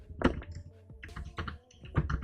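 Keys on a computer keyboard are tapped in short, irregular bursts of close, crisp clicks and thunks with brief pauses, feeding data to an LPC1768 board over UART.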